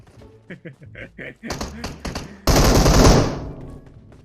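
Gunfire in the mobile battle royale game PUBG Mobile: a string of quick, sharp shots, then a loud, close burst that rings out and decays, with excited talk over the start.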